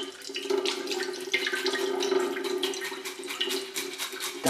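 Tap water runs steadily into a sink while a freshly caught Atlantic deep-water fish is rinsed clean of its bloodline, a close, continuous splashing flow.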